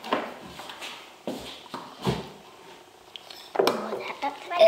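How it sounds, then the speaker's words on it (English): Spoonfuls of mixed fruity slushy scooped and dropped into bowls, giving soft scraping and clinking knocks in a loose rhythm, close up, with quiet talk around them. "So now we're going to mix it up. And spoon it into your bowls."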